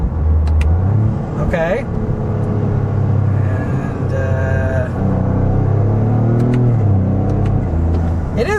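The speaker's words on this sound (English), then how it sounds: "But let's try some downshifts." A 2025 Toyota GR Corolla with automatic transmission drops through downshifts, its engine blipping and rising in pitch over steady cabin road rumble, with someone talking briefly.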